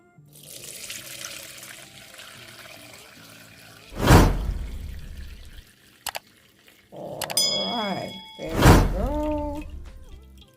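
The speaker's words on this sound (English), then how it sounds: "now I'm going to just strain it off" Pineapple juice is poured through a kitchen strainer, with splashing bursts of liquid, a short pause and a couple of light knocks, then a second strong pour trickling off, all close by.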